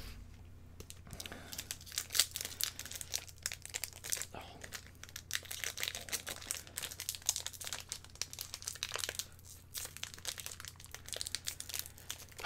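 Trading card booster packs from a Crystal Games booster box being torn open by hand, a close run of crinkly foil rustling and ripping bursts that keeps going throughout.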